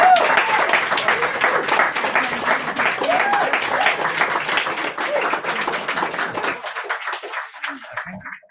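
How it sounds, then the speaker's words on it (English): An audience at a poetry event applauds a poet, a full burst of clapping with some voices underneath that gradually thins out and fades to near silence at the end. "Give a round of applause."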